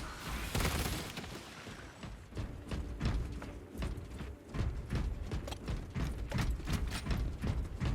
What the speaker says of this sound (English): Magazine out. Magazine in.